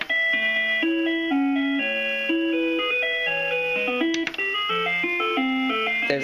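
A Breville Smart Scoop ice cream maker plays its second alert tune, a cheerful ice-cream-truck-style melody of bright, clean electronic notes stepping up and down steadily for about six seconds, loud and close with no talk.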